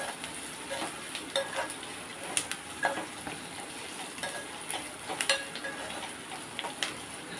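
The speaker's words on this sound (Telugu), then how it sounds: "ఇదిగోండి పోపు వెళ్ళిపోయింది" Spices tempering in hot oil for a coconut chana dal and potato-tomato pulusu, a steady close crackling sizzle with scattered sharp pops and light utensil scraping, no voices.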